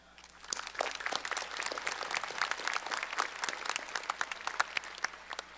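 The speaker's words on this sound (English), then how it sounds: "please join me in a round of applause for the parents," A high school graduation crowd in Parkersburg, West Virginia applauds, a rapid patter of many hands heard from a distance, fairly faint but building and holding steady with no speech over it.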